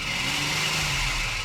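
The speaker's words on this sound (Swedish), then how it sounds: "Och du hör vad grant de går de här sexorna." A six-cylinder car engine runs steadily and smoothly at close range, a continuous even hum with no voices over it.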